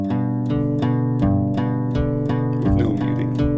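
A guitar chord whose notes are picked one at a time without palm muting: about eight open, ringing plucks in a steady rhythm whose notes sustain and overlap, played close and alone.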